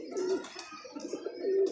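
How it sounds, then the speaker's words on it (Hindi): A young pigeon gives two soft, low coos close by, separated by a short pause, with faint rustling between them. "इस कबूतर का बच्चा है"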